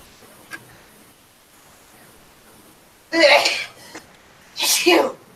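Two sharp sneezes burst out close by in a quiet room, the second about a second and a half after the first, each a brief loud explosive puff of breath, with only faint ticks before them.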